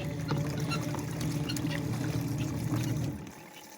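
A small washing machine agitates laundry in water on a homestead, a steady churning and sloshing that holds loud and continuous before easing off at the end.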